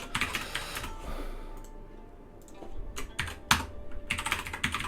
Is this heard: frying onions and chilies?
no